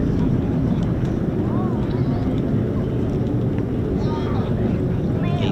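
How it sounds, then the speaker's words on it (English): A C-47 Dakota flies past at an RAF air display, a steady broad engine drone that stays loud throughout, with wind buffeting the microphone and faint voices underneath. "C-47 Dakota."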